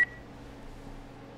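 A single short, clear telephone keypad tone in The Last of Us, followed by a low, quiet hum.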